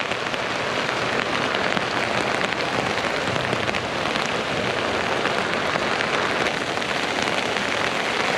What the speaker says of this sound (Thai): ฝนตกครับตอนนี้